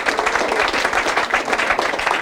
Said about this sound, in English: Give them a round of applause, University of Maryland